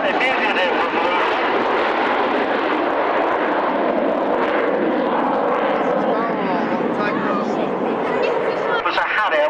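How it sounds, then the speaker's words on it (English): A Harrier jet flies past with flaps down at an outdoor military airshow, a loud sustained engine roar that fills the whole stretch, with crowd noise and talk mixed in. "It was a Harrier with flaps down."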